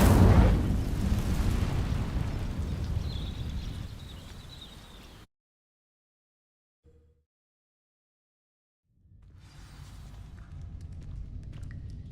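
An Incendio fire spell igniting dry vines in a video game, heard as a loud roaring whoosh of flame that fades over several seconds, then silence before a low ambient rumble returns.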